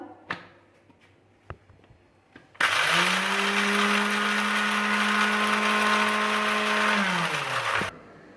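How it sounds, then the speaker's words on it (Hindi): An electric grinder grinds a tablespoon of black pepper with other spices for a mutton biryani masala. It runs loud and steady for about five seconds after a few soft clicks and knocks, then stops abruptly. "इसको हम ग्राइंड करेंगे।"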